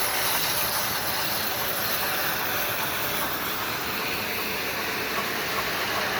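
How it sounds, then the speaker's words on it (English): A model steam locomotive runs at a hobby train show, a steady, fairly quiet rolling rumble with a broad hiss over the hall's ambience, no voices. "And they've got a steam locomotive too"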